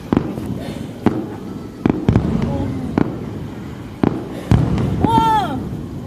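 Fireworks pop and crack at a crowded display at Hồ Văn Quán, a series of sharp bursts spaced a second or so apart over a busy crowd murmur, with a rising whistle near the end and people talking nearby.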